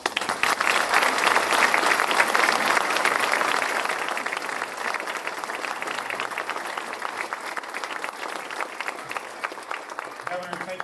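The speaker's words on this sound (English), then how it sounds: "Let's give her another round of applause" A crowd at a ribbon-cutting ceremony for a community accelerator and childcare business initiative applauds steadily, loud clapping that continues for about eleven seconds and thins slightly toward the end.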